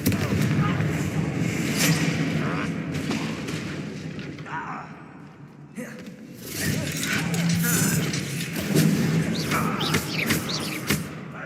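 Fiery Confringo blasting spells from the Hogwarts Legacy video game, several booming explosive thuds in quick succession over a dense, busy game soundscape with music and effects.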